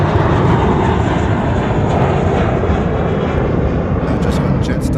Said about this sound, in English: Just got Jetstar 672 off to Darwin there. Magic. Good old A320.